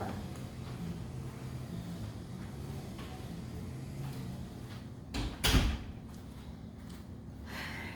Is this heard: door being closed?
yes